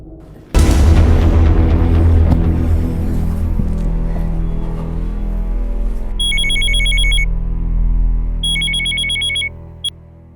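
After a sudden heavy boom, a low sustained drone fills the room, then an electronic telephone ring trills in two short bursts near the end, fairly clear against the hum, with no voices.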